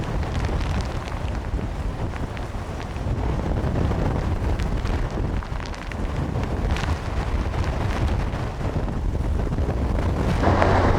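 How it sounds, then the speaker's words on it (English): Hurricane Charley's wind in Punta Gorda, Florida, in 2004 roars loudly and continuously, buffeting the microphone with a dense, rushing broadband noise that swells slightly as it builds. "Now with the wind starting to pick up rapidly"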